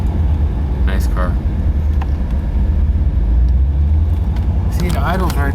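A 1988 Chevrolet Corvette C4 sports coupe with a 350 engine idles with a steady low rumble close by, while someone talks over it and brief clicks and chirps come and go.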